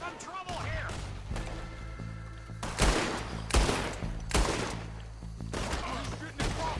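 Gunfire in a Red Dead Redemption 2 shootout with raiders, several loud, sharp shots in an uneven burst over a rumbling game background, with voices under it.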